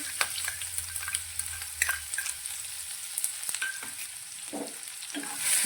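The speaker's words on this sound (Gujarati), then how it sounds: "ગેસની ફ્લેમ થોડી ધીમી રાખી અને લસણ મરચાંને પણ સારી આપણે સાંતળી લઈશું।" Ground garlic, ginger and chili paste sautéing in hot oil over a lowered gas flame, a steady sizzle broken by repeated scraping stirs of a spoon against the pan, close and alone.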